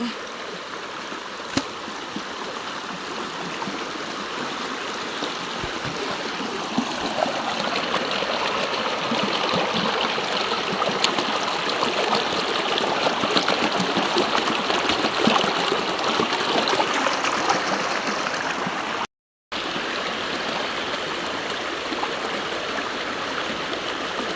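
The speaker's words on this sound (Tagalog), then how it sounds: "Ito po yung sapa na hindi naiiga" A steady stream rushes and trickles over rocks, a continuous broadband wash of flowing water close by, with a brief dropout near the end.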